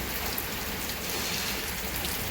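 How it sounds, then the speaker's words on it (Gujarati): Steady light rain falls in Banaskantha, a soft, even patter on surfaces that keeps on without a break or any voices. "ધીમે ધીમે વરસાદ ચાલુ છે"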